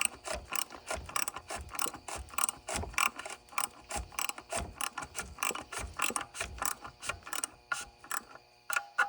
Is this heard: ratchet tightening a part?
yes